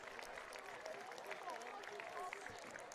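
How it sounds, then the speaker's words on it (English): Football fans at a high school game applaud an injured number 12 player as he is carried off, a steady wash of distant crowd clapping mixed with murmuring voices and chatter throughout. "Fans, let's have a round of applause for number 12,"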